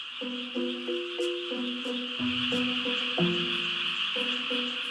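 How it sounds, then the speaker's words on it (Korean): Korean brown frogs call from a rice paddy near forest, short repeated croaking notes in quick overlapping series, with a steady high insect drone behind them. "개구리는 5월부터 논이나 작은 습지에 모여들어 짝을 찾기 위해 울어대는데요."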